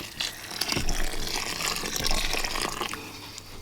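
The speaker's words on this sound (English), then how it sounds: "add in hot boiling water, just enough to cover the noodles" Hot boiling water pours and splashes in a steady stream over noodles in a container, with a few clinks of movement.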